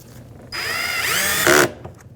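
A power drill drives a screw into the side mirror trim of a 2007-2013 Acura MDX. One short close burst of whirring rises in pitch and then cuts off, with quiet before and after.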